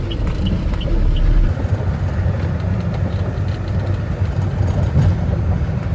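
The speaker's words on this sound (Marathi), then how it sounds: "आता या सगळ्या गाड्या खोपोलीसाठी खाली उतरत आहेत" Cars and other vehicles heading downhill toward Khopoli on a highway in pouring rain give a steady, close, low rumble of road noise, with no talking.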